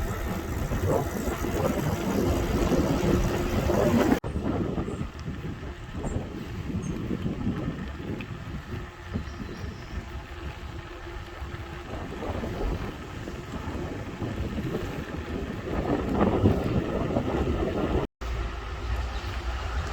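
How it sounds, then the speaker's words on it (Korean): A mountain stream in Jindong Valley rushes in a steady, broad wash of flowing water, heard along a mountain bike route. The sound stays loud and continuous throughout, with some wind buffeting and no talking. "진동계곡 아름다운 물소리입니다"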